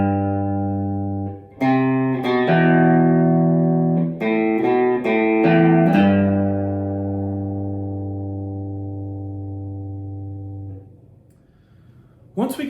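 Electric guitar playing a riff: a few picked notes and short chord stabs ringing out, then one long sustained note decaying, played alone.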